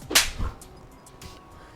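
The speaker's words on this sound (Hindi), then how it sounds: "साहब ने मुझे भी थप्पड़ मारा है।" A sharp slap lands on someone's face in a Hindi drama scene: a single loud, close smack followed by a softer thud and quiet room tone.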